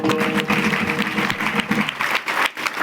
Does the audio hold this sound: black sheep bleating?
no